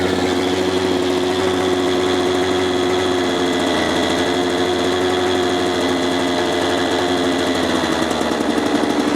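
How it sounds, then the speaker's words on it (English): A KTM SX85 dirt bike engine idles fast and steady without a break, set too high, a busy high-pitched rattling drone that stays loud and close throughout. "So I just brought the idle of the bike down just a little bit because it was idling very, very high."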